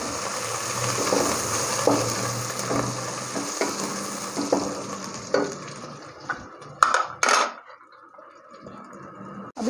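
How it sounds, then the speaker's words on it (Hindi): Ginger garlic paste fries in a pan for kari pakora, a steady close sizzle under scraping stirs that eases off toward the end, with a few utensil clinks. "इसको हल्का सा इसके साथ फ्राई करके"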